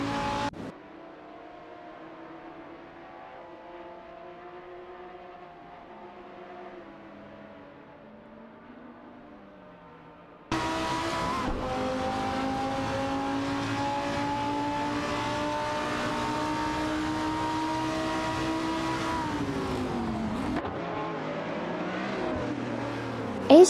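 Racing cars, a Jaguar XKR GT3 among them, drone through an AI-driven video game race, engines held at a steady pitch. The first half is quiet and sparse, then a much louder engine roar takes over and gently shifts pitch as it goes.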